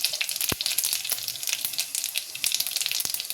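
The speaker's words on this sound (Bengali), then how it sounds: "তো বন্ধুরা তেল গরম হয়ে গেছে, অল্প একটু আমি হিং দিয়ে দিলাম, তারপর দিয়ে দেবো সর্ষে, মেথি" Asafoetida, mustard seeds, fenugreek and cumin sizzling in hot oil, a steady close crackling fry with a few sharp pops, no voices.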